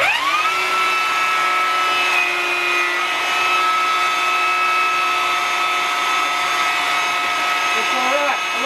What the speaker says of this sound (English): So I just cut this mortise in the whole board.